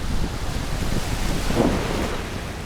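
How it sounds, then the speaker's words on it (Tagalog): Strong monsoon wind buffets the microphone on a Boracay beach, a loud continuous roar that blends with surf and gusts harder midway, with no voices. "Sobrang lakas ng hangin dito."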